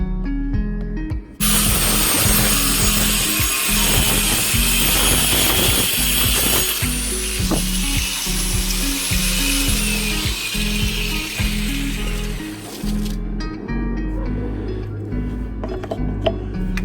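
An angle grinder fitted with a circular saw attachment cuts through plywood: the motor whines up loudly, then a harsh, sustained cutting roar runs for about eleven seconds with uneven bites before it spins down.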